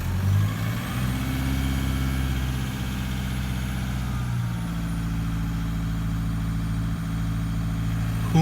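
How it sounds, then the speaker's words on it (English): A Toyota Hilux diesel engine idles steadily during warm-up, a close, even low rumble that lifts slightly around midway and then settles back into a constant idle. "I'm going to go and give this Hilux a bit of a rev, a bit and warm it up"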